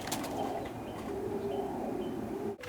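Soft, low cooing of Birmingham roller pigeons runs throughout, with a brief flutter of wings near the end.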